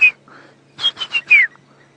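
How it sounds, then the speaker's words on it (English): A brown-hooded kingfisher calls on a morning safari drive in the African bush, a loud close whistle followed by a rapid descending run of four sharp notes, with faint low vehicle hum beneath. "brown-hooded kingfisher going"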